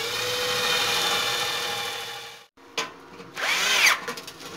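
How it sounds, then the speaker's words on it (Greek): A power drill drives screws into a homemade wood stove built from an electric water heater, fixing supports for the grate: a steady loud whine for about two seconds, a sudden stop, then several shorter whirring bursts. "Εδώ τώρα θα βάλουμε και 2-3 βίδες έτσι προς τα μέσα για να πατήσει η σκάρα μας."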